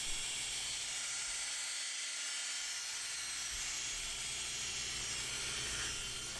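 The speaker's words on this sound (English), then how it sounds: "As the video rolls, you'll see the polisher twisting and turning so I can get all of the surfaces" Rotary polisher working boat gel coat, a continuous high whirring hiss with a brief dip in the low rumble partway through.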